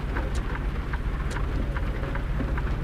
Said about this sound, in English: Why is the sky blue but it's raining?